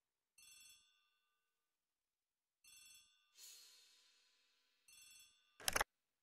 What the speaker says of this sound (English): The telephone is ringing.